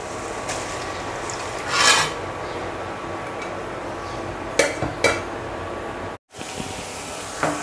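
Stalky data greens go into a pan of spicy dried bamboo-leaf fish (shutki) that has nearly finished frying down. A steady close rasping rustle runs throughout, with a few sharp scrapes and clinks and a brief cut near the end. No talking.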